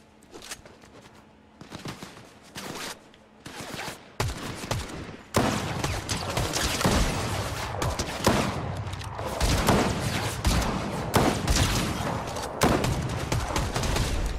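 Bursts of gunfire from a Fortnite match crackle in rapid volleys, starting sparse and faint, then growing into dense, loud, overlapping shots that carry on to the end.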